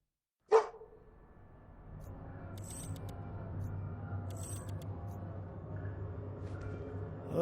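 A single sharp dog bark in the Marvel's Avengers video game, loud and close, followed by a steady low ambient hum with faint tonal blips for the remaining seconds.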